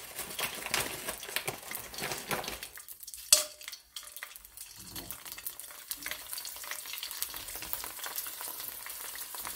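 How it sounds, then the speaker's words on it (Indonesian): Kerupuk crackers fry in hot oil with a dense, steady crackling sizzle throughout, broken by a brief louder clatter partway through. "Sekarang aku mau goreng kerupuk."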